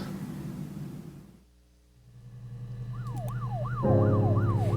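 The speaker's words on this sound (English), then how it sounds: "Did you guys hear those sirens?" A wailing emergency siren rises and falls repeatedly, growing louder as a vehicle approaches, with a deep engine rumble swelling beneath it.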